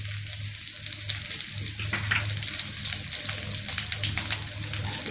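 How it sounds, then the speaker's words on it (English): Cumin seeds, chopped ginger and green chilli sizzle in a pan, a continuous close frying hiss with scattered crackles and a low hum underneath, without talk. "Going to add the cumin seed. Chopped ginger and green chilli."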